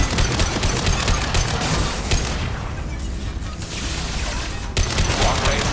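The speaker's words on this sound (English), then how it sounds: "Sniper rifle neutralization." Sniper rifle fire in the video game Mass Effect 2 sits within a loud, dense wash of battle noise, with one sharp shot standing out near the end.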